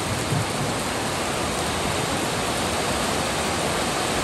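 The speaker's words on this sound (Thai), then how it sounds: "ฝนสาดด้วยนะคะวันนี้ฝนสาดด้วยค่ะแบบมาแรงมากนะคะ" Heavy storm rain pours down in a dense, loud, unbroken roar of water that stays steady throughout, with no voices.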